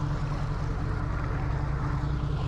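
A boat engine idles steadily in open water during a Great Loop cruise, a low, even rumble with no change in pace, close and unbroken throughout.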